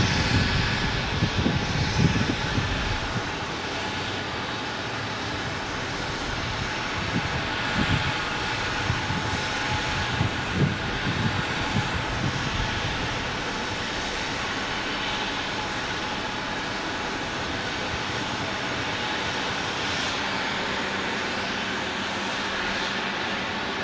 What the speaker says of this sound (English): Delta from Seattle here is landing next.